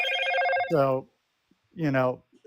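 A telephone ringtone chimes once with a steady electronic tone, then two brief bursts of voice-like tonal sound follow after short gaps, fairly loud and close.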